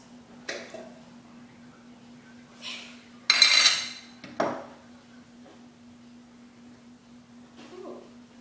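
Hard-boiled vinegar-soaked eggs bouncing on a hard surface, a few sparse, faint taps and knocks spaced out in a quiet room with a steady low hum.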